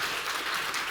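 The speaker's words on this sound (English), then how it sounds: "Please welcome her with a big round of applause." Audience applause fills a forum hall, a dense, steady patter of clapping from many hands, brief and continuous.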